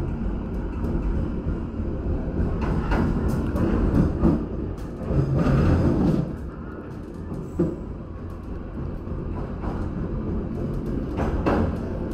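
The Sawunggalih economy train pulls out of Jatinegara station, a steady low rumble of rolling wagons and rail noise with a few clanks and louder swells, heard from inside the carriage.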